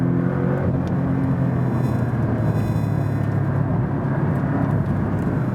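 A Porsche 718 Cayman from 2017 drives on a racetrack with a steady, loud engine drone and low rumble that holds throughout, heard from inside or close by, with no talking.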